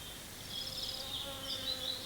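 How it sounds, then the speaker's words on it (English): Soft, steady buzzing of bees hovering around blossoms nearby, a continuous drone that rises slightly as they move, with no talking. "Bees love the blossoms."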